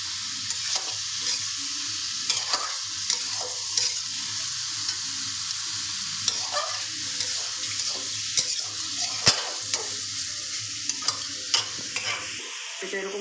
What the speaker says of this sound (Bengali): মাংসটাকে তো কষতে দিলাম। মাংসটাকে কষাই করবো,